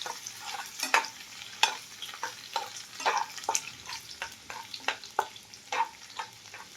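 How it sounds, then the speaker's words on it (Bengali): Chopped garlic fries lightly in oil for homemade Szechuan chutney, a soft sizzle broken by rhythmic spatula scrapes and taps against the pan, near and moderate, with no talking. "এটা হালকা করে ভাজবো।"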